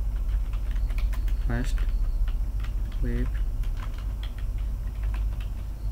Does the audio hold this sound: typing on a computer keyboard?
yes